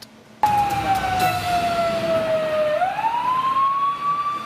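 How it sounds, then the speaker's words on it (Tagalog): A fire truck siren wails continuously at a fire in Batasan Hills, Quezon City, its pitch slowly sliding down then rising again, loud and fairly close. "Umalingaw-ngaw ang sirena ng bumbero sa barangay Batasan Hills, Quezon City kagabi."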